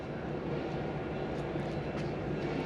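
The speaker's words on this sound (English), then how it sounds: "Anyway, here's the train." A Heber Valley Historic Railroad excursion train in Heber City rolls past as a steady, broad rumble and roar that holds constant throughout, fairly close and with no talk over it.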